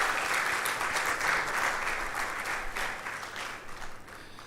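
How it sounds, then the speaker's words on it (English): A conference audience at a health systems innovation event applauds the chairman in a sustained, dense round of clapping that eases slightly toward the end. "We need a bigger round of applause for the chairman"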